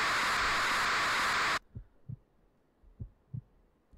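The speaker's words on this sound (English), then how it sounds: "I see heartbeats." A heartbeat sound effect in the Pikachu.exe horror game: loud static cuts off abruptly, then two pairs of soft, low thumping beats follow in a steady rhythm.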